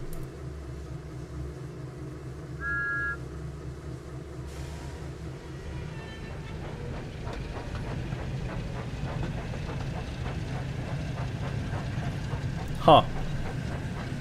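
A diesel locomotive idles and works with a steady low engine rumble and faint clanking in Train Sim World 5's Thomas and Friends setting, joined by a brief sharper burst near the end, with a voice speaking briefly over it.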